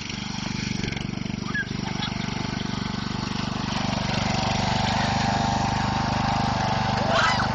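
Riding lawn mower engine running steadily and loudly close by, a constant droning rumble throughout with faint voices underneath.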